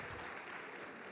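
A church congregation applauds its visitors during a service, a steady wash of many hands clapping, fairly faint and distant, with no voices standing out.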